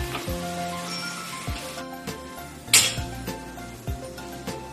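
Maggi noodles are scraped from a pan onto a plate, with metal utensil clinks and taps, one sharper scrape, over soft background music.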